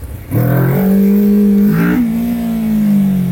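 A BMW K1600 motorcycle pulls away with a loud, close engine that rises sharply in pitch as it accelerates, then settles into a sustained, smooth drone. The line is clean and steady, with no talking.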